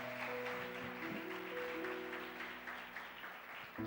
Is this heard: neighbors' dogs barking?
no